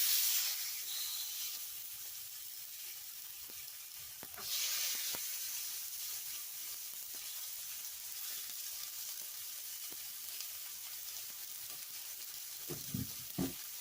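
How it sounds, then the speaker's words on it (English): Pork chops frying in a little oil in a pan give a steady, hissing sizzle throughout, louder at first and settling down, with a few faint clinks toward the end. "Alright, it's time to fry up our pork chops. Got a little bit of oil in the pan."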